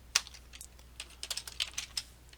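Keys on a Commodore 64 keyboard clatter in a quick, irregular burst of sharp close clicks while a command is entered, loud against a quiet background and with no speech.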